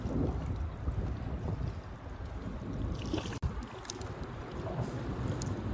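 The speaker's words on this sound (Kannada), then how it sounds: "ಅದು ಸಣ್ಣ ಮಿನಿ ದೋಣಿ ನಮ್ದು" A small mini fishing boat moves across open water, with a steady rush of water and wind buffeting the microphone throughout and a brief knock partway through.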